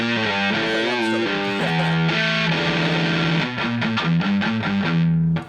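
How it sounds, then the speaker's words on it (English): An electric guitar played through a Brelliott Deluxe TODP pedal set for germanium distortion, loud and close, with sustained chords and then choppy strummed notes. "it's now a germanium distortion and not a tube overdrive"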